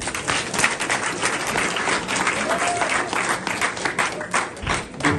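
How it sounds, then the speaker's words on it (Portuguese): Congregation at a church service claps for a woman, loud continuous applause filling the whole stretch with a brief dip near the end, no speech on top. "Uma salva de palmas para ela."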